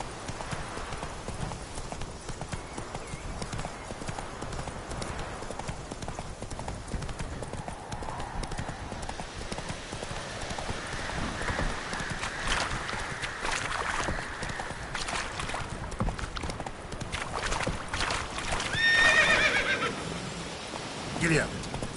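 Horse hooves clop steadily in the Witcher 3 video game, with a neigh, under ambient game sound and voices talking.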